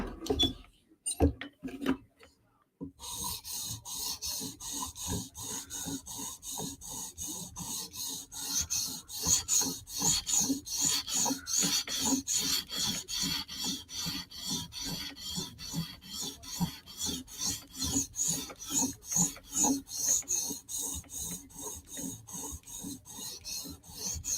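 Knife blade sharpened on a 400 grit stone: after a few separate strokes, a quiet rapid back-and-forth rasping of steel on stone continues in an even rhythm.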